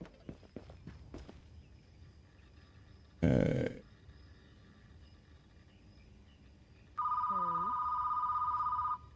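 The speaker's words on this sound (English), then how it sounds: "Tell you, man, my phone rings off the hook." A telephone in a retro video store simulator game rings with a steady electronic trill near the end, after a short burst of noise and some faint clicks and footsteps.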